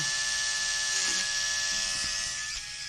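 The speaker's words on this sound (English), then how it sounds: "take your Dremel, we're going to drill right in the middle of where that microphone mouthpiece used to be" A Dremel rotary tool whines steadily with a thin, piercing tone, dipping slightly as it drills a small hole into a Star Wars Black Series action figure's helmet near the end.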